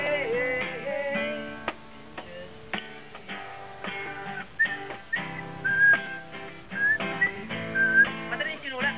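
A person whistles a melody over a plucked, ticking musical accompaniment in a song, the whistled line rising and gliding in short phrases through the middle and end, moderately loud and close.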